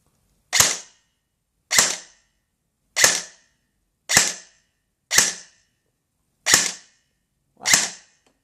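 Seven sharp, loud single shots from a G&P Sentry M4 airsoft rifle fired one at a time at a slow, steady pace, each a crisp snap with a short tail, silence between them.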